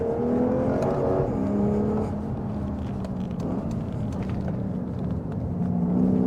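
A 2015 Lexus RC F driven fast on a track, its engine droning and shifting pitch as it rises, eases and climbs again, with steady road and wind roar throughout and no voices.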